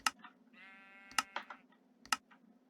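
Minecraft sheep bleating, a wavering harmonic bleat in the middle of the clip, set among several short sharp game clicks and pops.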